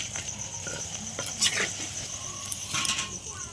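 Eggplant frying in hot oil in a wok, a moderate steady sizzle with a couple of louder bursts of crackle and faint utensil clinks, heard close without speech.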